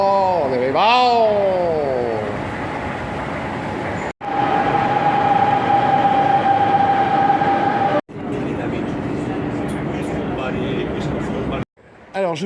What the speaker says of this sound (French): Le métro de Bilbao.